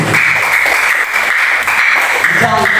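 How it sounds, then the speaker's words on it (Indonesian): Classroom applause for a student group fills nearly three seconds, a dense, fairly loud wash of many hands clapping together with a few voices mixed in. "tepuk tangan untuk kelompok 1."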